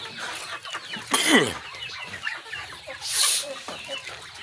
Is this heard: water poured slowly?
no